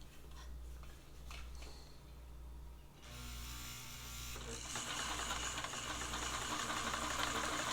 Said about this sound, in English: We'll start with a straight stitch here.